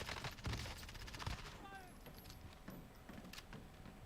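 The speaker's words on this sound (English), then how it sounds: "I hear gunshots." Gunfire in an online multiplayer shooter game, bursts of rapid shots heard faintly through busy game noise and background chatter.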